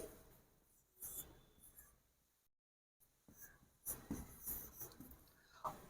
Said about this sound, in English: So let me write it.